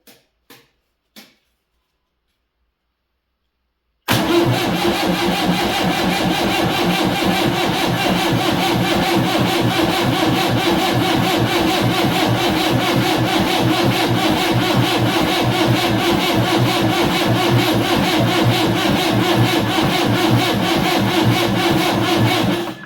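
A Massey 780 Special combine engine cranks with a few brief clicks before catching, then settles into a loud, steady, close diesel idle that runs without a break for nearly twenty seconds.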